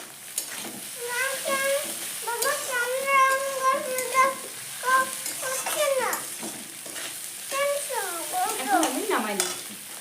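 Ridge gourd and egg sizzle and fry in a pan while a utensil stirs and scrapes, with bird-like chirping and a voice faintly audible over the cooking noise.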